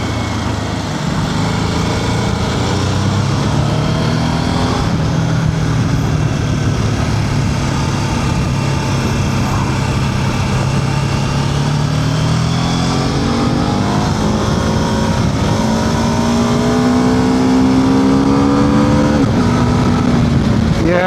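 A BMW F 450 GS with a 135-degree crankshaft revs loudly under a rider. Quick shifts make the pitch step down and climb again, and the engine rises steadily into a corner over continuous wind noise.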